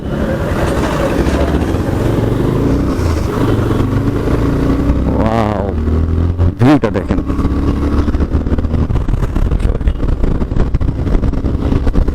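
Motorcycles riding along a busy, jammed road, a Turbo and a Suzuki Gixxer among them, their engines droning steadily up close with wind rumble and brief passing swooshes from nearby traffic.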